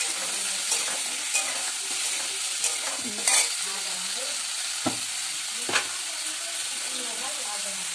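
Diced potatoes fry together in a pan for egg fritters, sizzling steadily and close throughout with a few sharp stirring scrapes.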